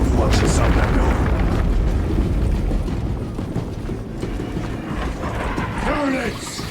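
Grenade blasts in Warhammer 40,000 Space Marine 2 roll through as deep booming rumbles over a constant battle din. A voice talks over the noise partway through.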